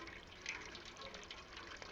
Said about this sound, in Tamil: பூனை குட்டி நீ தண்ணி குடி.